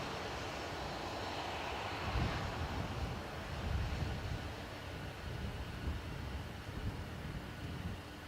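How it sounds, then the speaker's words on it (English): An Embraer 195 E2 jet departs Dublin for Amsterdam, its engines giving a continuous broad rumbling roar that swells slightly in the middle and holds steady at some distance, with no talking. "195 E2 Embraer gone to Amsterdam."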